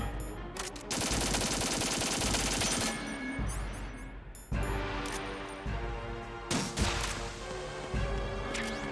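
Gunfire in Metal Gear Solid 2, bursts of rapid automatic shots and heavy thudding impacts mixed with game music, loud and close, with short gaps between volleys and no talking.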